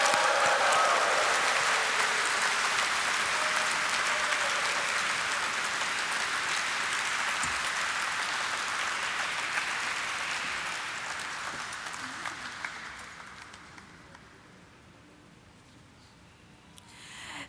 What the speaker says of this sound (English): let us have a resounding of claps to mark the celebrations